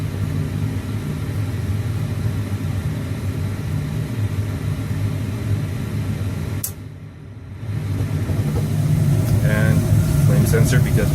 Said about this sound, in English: the furnace keeps going